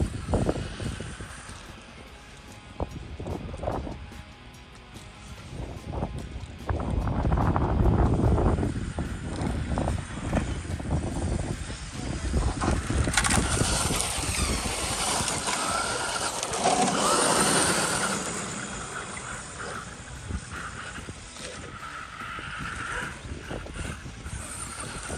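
An RC Jegs Stinger boat running on Urgenex 5200mAh 70C 2S battery packs, its electric drive whining steadily and loudly over the water for the whole stretch, with swells as it takes off and wind buffeting the microphone.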